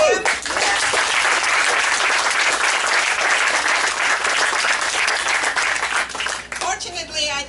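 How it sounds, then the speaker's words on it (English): A crowd at an outdoor Flag Day and birthday celebration held by county Republicans in Lake County, Florida breaks into loud, sustained applause for about six seconds, then it fades out as cheering voices trail off near the end. "Can we have a big applause for him?"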